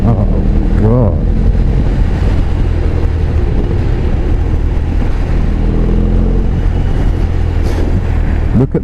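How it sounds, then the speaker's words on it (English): A BMW R18 motorcycle pulls hard in fifth gear from about 45 mph, a steady deep engine rumble mixed with loud wind roar throughout, with no distinct talk. "Let's have a little test of this torque that I've heard all about. We're in 5th gear."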